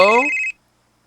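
Telephone ringing for an incoming call on a Korean call-in broadcast, one short loud electronic trill that cuts off abruptly, followed by silence.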